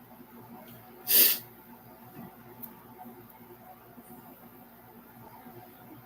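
A single short, sharp sneeze bursts out once, then only faint room noise and low murmuring follow.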